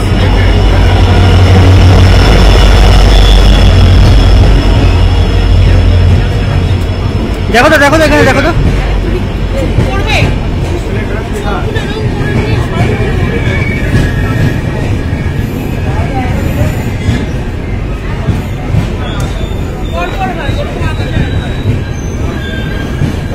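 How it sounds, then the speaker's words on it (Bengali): The 12378 Padatik Express rolls into a station platform with a loud heavy rumble of wheels and carriages, a sharp squeal of wheels partway through, and people talking nearby throughout. "এটা আমার গাড়ি ঢুকছে পদাতিক এক্সপ্রেস।"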